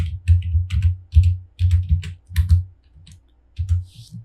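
Computer keyboard keys clatter in uneven bursts of close, crisp clicks during text entry in AutoCAD, with short pauses between groups of keystrokes.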